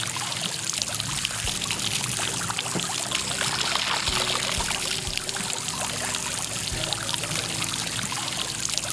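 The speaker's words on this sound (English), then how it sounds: "Grab a fresh water hose with regular water pressure. And start rinsing down the board." Fresh water from a hose at regular pressure rinsing down a Waydoo Flyer ONE board from top to bottom, a steady splashing, hissing spray that runs continuously and close by.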